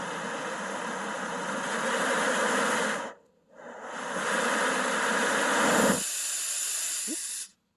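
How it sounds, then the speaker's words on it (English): A compact Ozark Trail camping stove hisses steadily and loudly after lighting, cutting out briefly near the middle before the gas flow resumes, then shifting to a quieter hiss. "We're just going to wait to hear it hiss"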